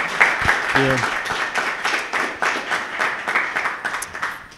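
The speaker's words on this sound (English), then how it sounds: "If we could just get a quick round of applause for our panel." An audience at an angel investing panel event applauds, a steady round of many hands clapping that fills the room, with a brief spoken word near the start.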